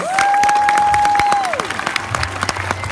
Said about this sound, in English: Let's give these wonderful students a huge round of applause